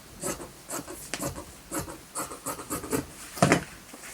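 Fabric cut to a one-metre length for a sofa pocket and cushion cover, close-up: a run of short, rasping snips and rubbing scrapes in an irregular rhythm, with one louder, fuller cut near the end.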